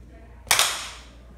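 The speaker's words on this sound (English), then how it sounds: "we're gonna clap the highest we can" A single sharp, loud hand clap made as high as possible to trigger a micro:bit alarm invention; one bright burst with a brief decaying tail in a quiet room.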